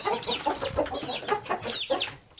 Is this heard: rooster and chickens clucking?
yes